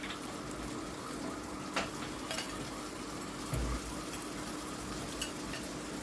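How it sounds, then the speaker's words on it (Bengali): Marinated mutton going into a pan of oily, sizzling spices for dum ka mutton: a steady frying hiss runs throughout, broken by a few soft stirring clinks and one low thud of meat landing. "এবারে আমি ম্যারিনেট করা মটনটা দিয়ে দিচ্ছি।"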